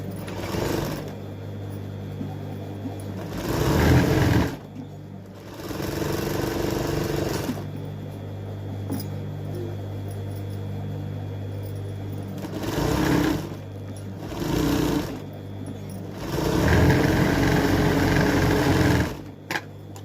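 Electric sewing machine stitching falls onto a saree, running in several bursts of rapid mechanical whirring with brief pauses between them, close and fairly loud, with no talking.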